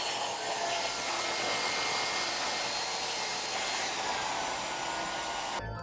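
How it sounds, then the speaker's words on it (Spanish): A hair dryer blows steadily at close range, a loud continuous whooshing roar that runs without a break and then cuts off abruptly at the end. "voy a traer la secadora para ayudar con el calor y el aire"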